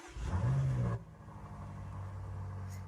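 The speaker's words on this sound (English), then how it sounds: "I'm going to turn the engine on" A BMW M5 engine fires up with a loud burst of revs, then drops into a lower, steady idle rumble.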